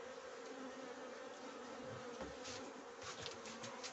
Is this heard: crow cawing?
no